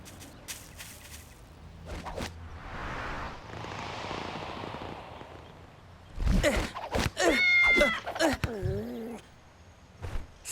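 A cartoon cat meows in a few quick, bright calls after a stretch of soft whooshing noise, with thumps and busy action sounds around it.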